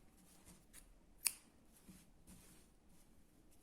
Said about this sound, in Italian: catenella e taglio il filo.